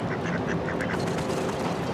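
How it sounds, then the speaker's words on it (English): Ducks sunbathing outdoors let out a few short quacks early on, fairly near, over a steady broadband outdoor noise floor that continues after the calls fade. "There are ducks sunbathing."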